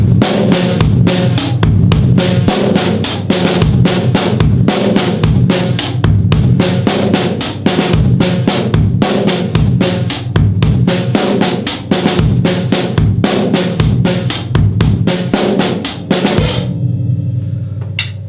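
A slow drum groove with ghost notes on the left hand and accents, played loudly and alone at a steady tempo with crisp, evenly spaced snare and cymbal hits, the kit ringing out at the end.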